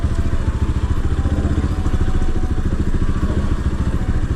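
A motorcycle rides a rough, broken off-road hill track, its engine loud and close with a rapid pulsing drone and clattering jolts, steady throughout with no talk.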